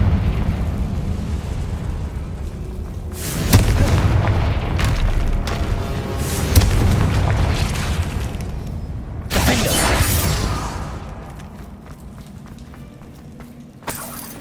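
Fire-spell blasts from Hogwarts Legacy, the Confringo curse: deep booming explosions burst out several times over a low rumbling game background, each impact loud and near with crackling debris trailing after.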